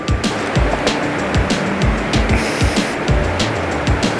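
Water pours out of water mills and rushes beneath a bridge in Wari, Upper Dir. The flow is loud and broadband, churning steadily with irregular surging splashes and no voices.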